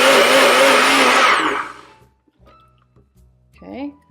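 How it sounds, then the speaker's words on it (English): A blender whirs loudly as it purees onions for a creamy pumpkin soup, a steady high-pitched motor roar that winds down and stops, followed by some quiet clatter and a brief voice. "I'm going to use a little bit of this just to get our onions blended"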